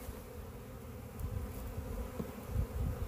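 Steady low buzzing of many bees, continuous and close, with no voices over it.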